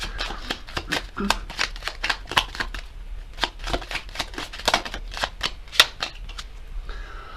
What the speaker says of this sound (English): Let's get some message cards. Let's start with this deck and see what's going on for them at this time.